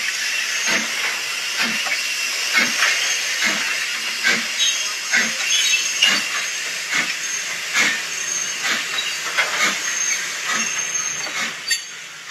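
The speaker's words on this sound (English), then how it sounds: "So really impressed with how this loco is running out on the layout." A Hornby Austerity model steam locomotive, upgraded, runs steadily on an exhibition layout, giving a continuous hiss and rumble punctuated by regular rhythmic clicks of its wheels over rail joints, close and even throughout.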